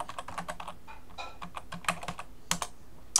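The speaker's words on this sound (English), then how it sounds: "I'm gonna type in public television" Rapid, irregular clicking of keys on a computer keyboard, close and fairly quiet, with no voices.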